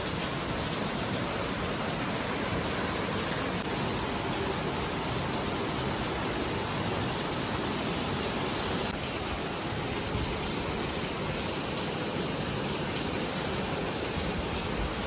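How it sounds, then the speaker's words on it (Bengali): Heavy rain pours down in a dense, constant hiss, loud and unbroken from start to finish. "দেখো কি পরিমাণে বৃষ্টি শুরু হয়েছে"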